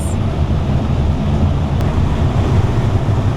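Strong wind outside a vehicle driving along a narrow Moroccan road, a loud, steady, broadband roar of wind buffeting with no talk.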